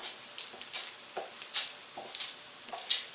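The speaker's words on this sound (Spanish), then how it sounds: "Vamos a revolver los ajitos." Garlic sizzling and frying in a pan for cauliflower soup, stirred with repeated scraping strokes at an irregular rhythm, close and fairly quiet, no voices.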